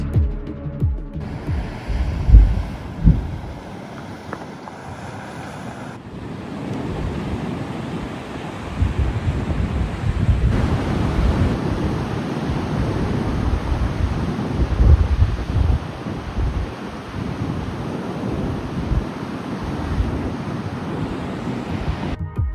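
Atlantic Ocean waves break and wash along the shore at Fuerteventura, a broad continuous roar of surf mixed with strong wind buffeting the microphone.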